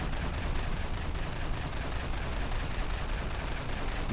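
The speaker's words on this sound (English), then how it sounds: "let's just have the missile launcher here. Feel free to engage. Missile away." A missile launcher in the naval combat game From The Depths fires, and its sustained roaring rush fills the whole stretch at an even, dense level.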